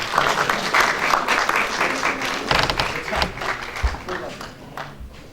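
Enthusiastic audience applause rises after a Hindi stage play performance, a dense, sustained clapping that fills the room, with a voice speaking over it and the clapping gradually thinning toward the end.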